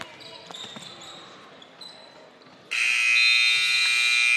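A loud, sustained basketball game buzzer blares suddenly after a few seconds of gym noise and faint squeaks, holding steady to the end of the third quarter at a high school boys' tournament game.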